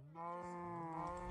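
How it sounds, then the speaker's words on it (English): Cattle mooing on an automatic cow farm in Minecraft: one long, drawn-out, harmonic moo that holds steady for over a second, close and clear with no talk over it. "It's like an automatic farm for cows."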